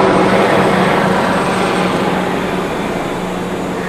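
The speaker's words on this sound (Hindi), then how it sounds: "लेकिन हेलीकॉप्टर जा रहा है।" A helicopter passes overhead near homes in Mumbai, a steady loud broadband engine and rotor roar that holds for several seconds and slowly eases off.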